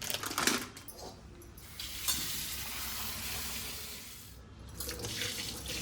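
White mushrooms are rinsed under running tap water, giving a soft, steady splashing and trickling hiss that swells and fades, heard close and alone.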